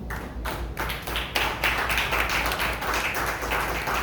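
A church congregation claps together during a sermon, dense rapid applause that is loud and continuous from start to end, with no voices.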